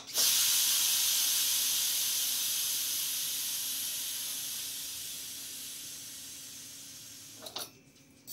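A pressure cooker cooking vegetables vents a loud, continuous hiss of steam that slowly fades over several seconds before cutting out with a few clunks.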